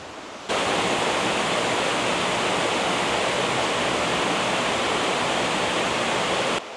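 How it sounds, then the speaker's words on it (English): Waterfall at the base of the falls at High Falls State Park, Georgia, roars as a loud, dense, unbroken rush of water that starts abruptly and holds steady until the end. "pretty much right here at the base of the falls"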